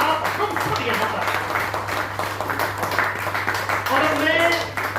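An audience applauding at a Delhi press club's 45th anniversary event, a steady patter of clapping through the whole clip with an announcer talking over it.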